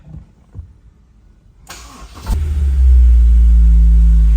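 A Honda S2000 engine cranks and catches, then settles into a loud, deep, steady exhaust drone around 1900–2000 rpm that grows heavier and holds at a constant rumble.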